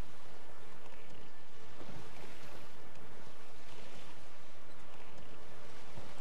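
A boat glides across open water in The Witcher 3: Wild Hunt, with a steady wash of waves and wind filling the whole stretch and no talking.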